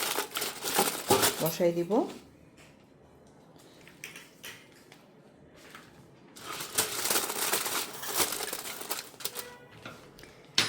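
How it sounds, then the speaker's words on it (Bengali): Aluminium foil sheet being handled and crinkled over a steamer while preparing BBQ steam chicken, crisp rustling bursts at the start and again in the second half, close up, with a brief spoken phrase early on. "উপরে স্টিমার, তার উপরে আমি দিব হচ্ছে এই ফয়েল পেপার"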